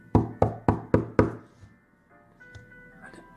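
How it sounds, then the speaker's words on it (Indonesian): Five firm knocks on a door in quick, even succession, loud and close, followed by a quieter stretch with a faint single thump. "Pada waktu itu ada yang mengetok pintu"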